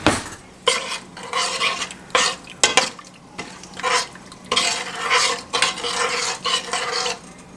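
A spoon stirs blackberries and sugar cooking in a pot for an Appalachian supper, giving repeated scraping and clinking strokes in uneven bursts, close and fairly loud, with a soft bubbling sizzle beneath and no talking.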